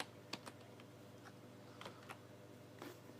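Keys on a computer keyboard are tapped in a few sparse clicks over a low steady hum, quiet and close.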